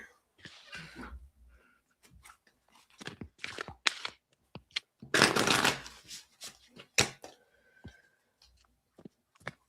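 Cards are shuffled by hand for an intuitive reading in a series of crisp, uneven riffling and flicking bursts with short pauses between them, fairly close and quiet.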